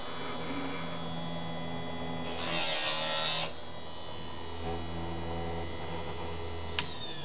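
An electric chainsaw chain sharpener, with its motor humming steadily throughout, grinds against a saw tooth in one brief, louder burst in the middle of the clip.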